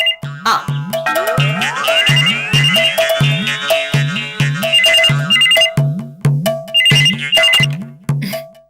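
A telephone ringtone plays loudly and close in a Malayalam TV comedy scene, a repeating electronic melody with a rising sweep, continuing in regular bursts throughout.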